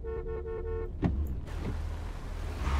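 A car horn honks in a taxi-driving simulator video game, a short sharp toot rising over a steady engine and traffic hum, with no one talking.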